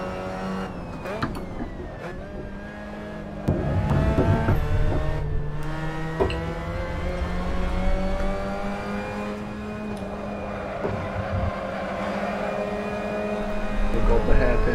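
Race car engine in a PC racing game accelerating hard down a long straight in sixth gear, a steady high-pitched whine climbing through the revs, with a voice talking over it throughout.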